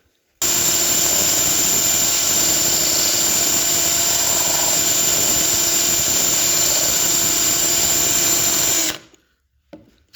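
An electric drill bores a hole through glass with a steady, loud, high-pitched whine that runs unbroken for about nine seconds and then cuts off abruptly, with no voices.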